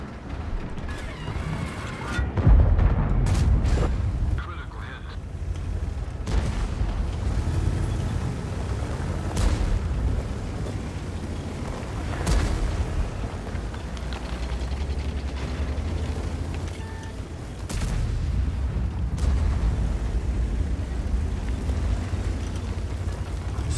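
Tank gun fire in World of Tanks from a Minotauro tank destroyer, with heavy low booms and mechanical rumble, a strong blast near the start and further thuds and reloading clanks spread through the clip.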